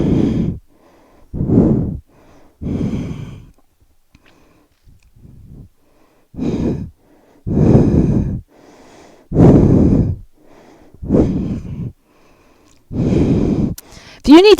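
Deep, slow breaths during a core exercise, a regular rhythm of long inhales and exhales with pauses between, close and clear.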